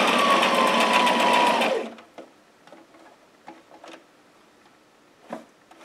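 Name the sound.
sewing machine stitching dress center front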